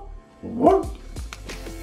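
A dog barks several times in quick succession, with one strong, close bark followed by sharper, shorter yips, loud and unaccompanied.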